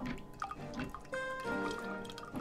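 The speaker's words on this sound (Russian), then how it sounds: "Бочка капает." Water drips from a barrel in the video game The Tower of Beatrice, heard as a few soft irregular drops set among layered game music and tonal effects.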